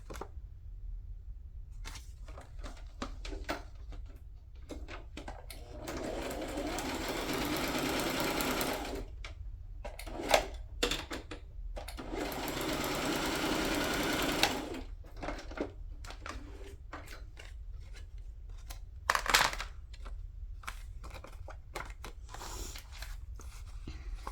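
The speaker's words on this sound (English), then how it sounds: "Let's do this next one with the sewing over here." A sewing machine stitches through paper on a pull waterfall craft, running in close, steady whirring bursts separated by brief pauses, with light handling clicks between runs.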